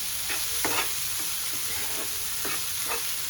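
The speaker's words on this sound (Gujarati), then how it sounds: "આપણે બોઇલ કરેલા છે વટાણા તેને એડ કરી દઈશું. એને પણ આપણે સાતળી લઈશું." Boiled green peas sautéing in a hot pan over a medium flame, a steady sizzle broken by a few scraping stirs of a spoon, with no voices.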